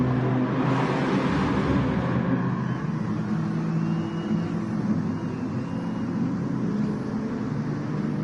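Race cars on the final lap of a night race roar past in a dense, continuous wash of engine noise that stays loud and steady throughout, with no pauses.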